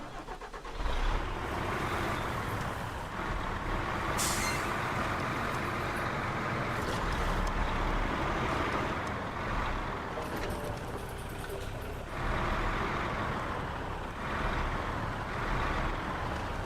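A truck engine idling steadily in the off-road driving game Snowrunner, a continuous broad rumble holding through with small surges and no speech.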